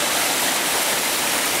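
Stony Creek rushes over huge boulders in a remote Appalachian hollow, giving a steady, loud, close wash of flowing water with no pauses and no voices.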